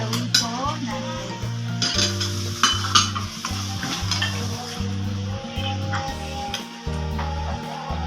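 Garlic and onion sizzle loudly in a frying pan as a utensil stirs and scrapes them in repeated strokes, with background music playing.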